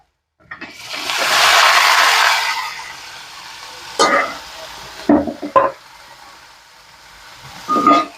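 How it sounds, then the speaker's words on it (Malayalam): Cleaned clams tipped into sautéed onions in a hot pan hiss and sizzle loudly for a couple of seconds, then fade to a quieter fry broken by a few clattering stirs and scrapes. "വഴണ്ട് വന്ന ഉള്ളിയിലേക്ക് നമ്മുടെ കക്ക വൃത്തിയാക്കി വെച്ചിരുന്നില്ലേ അതിട്ട് കൊടുക്കുക"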